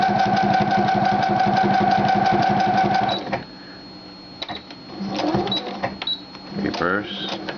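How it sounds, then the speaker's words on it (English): Sewing machine stitching MOLLE webbing, a fast even mechanical chatter of the needle that runs steadily, then stops and gives way to scattered clicks and handling of the machine and fabric. "bring our needle down, start sewing again"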